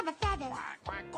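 Short, nasal duck quacks from a children's song, two or three close, loud calls within about a second, with no talking.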